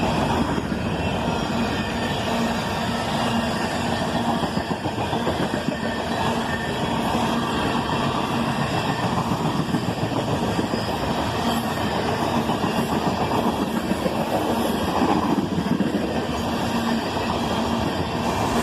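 A manifest freight train led by a single ES44ACH locomotive, with distributed power, rolls past in a steady, dense rumble of rail cars and wheel noise, loud and sustained throughout.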